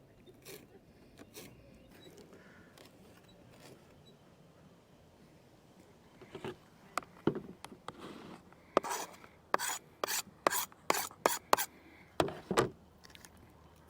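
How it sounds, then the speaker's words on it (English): A knife finely chops coriander leaves on a board for salsa, with faint scraping at first, then a run of crisp, rapid chopping taps growing louder toward the end. "to make the salsa, just some coriander leaves. You just want to finely chop them."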